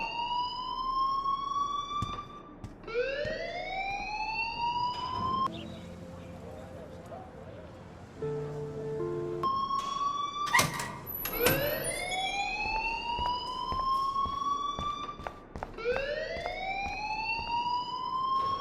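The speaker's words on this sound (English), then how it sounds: "please turn off that alarm since that's your job" A school fire alarm in the video game Life is Strange sounds as repeated rising electronic whoops, loud and close, with a short buzzing tone in the middle and faint voices underneath.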